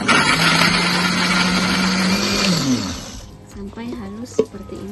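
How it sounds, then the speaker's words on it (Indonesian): A blender whirs loudly, churning spices with water, then winds down and stops, followed by a few clinks and knocks. "Kita blender"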